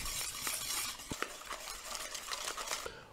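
Eggs being mixed into madeleine batter in a bowl give a steady run of close, soft stirring scrapes with light utensil clinks against the bowl, with no talking.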